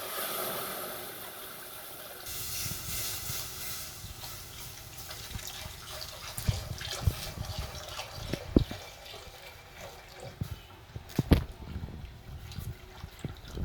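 Milk pours in a soft, steady stream into a moussaka tray with béchamel, faint and close, followed by a few light clinks and taps.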